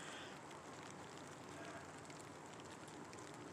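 Steady rain falls outdoors, a dense, even hiss of drops spread across the whole stretch, with no clear individual impacts standing out and no speech over it.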